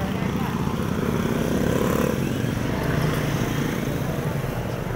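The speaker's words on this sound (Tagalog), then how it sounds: "at sasakay na kami ng aming motor" A motorcycle engine rumbles steadily at close range on a street, a continuous low drone with people talking over it.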